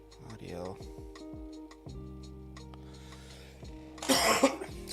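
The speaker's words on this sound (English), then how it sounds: "I've got a bit of a cough." A person coughs several times in short bursts, close and fairly quiet at first, then a louder harsher cough near the end, with a faint ticking in the background.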